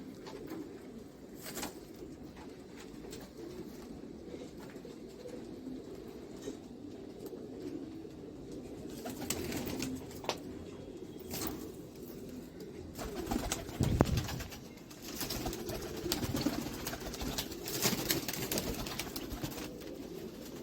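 Breeding pigeons coo in low, soft, repeated throaty calls, with light flutters and clicks nearby, steady and moderately close throughout.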